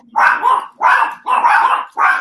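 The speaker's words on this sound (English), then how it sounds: "Those are my dogs." Dogs bark loudly and close by in four distinct bursts, each a quick double or triple bark, with short pauses between them and no talk.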